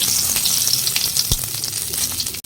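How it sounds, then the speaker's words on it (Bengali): Cumin seeds and bay leaves sizzle in hot oil in a wok, with a steady, close hiss and crackle throughout and a brief low thump near the middle. "কড়াইতে তেল দিয়ে দিলাম তেল গরম হয়ে গেছে আমি জিরাটা ছেড়ে দিলাম তেজপাতাও দিয়ে দিলাম"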